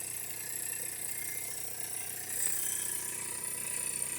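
Brand-new Jensen 75EL dual fuel toy steam engine running hard, a fast continuous mechanical clatter and whir with a high-pitched whine, steady and close throughout.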